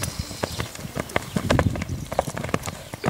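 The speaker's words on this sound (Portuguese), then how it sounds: "Vindo o cavalo palomino." A palomino purebred Lusitano horse jumps without reins, its hooves giving irregular clip-clop strikes on the ground, close and moderately loud, with a denser cluster of thuds midway.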